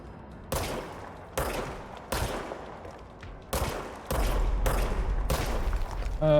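Rapid gunfire from a weapon in the Control video game: a series of sharp, loud shots in separate bursts, then a longer sustained volley near the end, with no talking.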